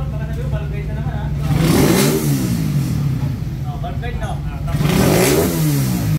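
A vehicle engine running with its exhaust pipe removed revs up loudly twice, unmuffled, rising and falling in pitch over a steady rumbling idle, with voices talking underneath.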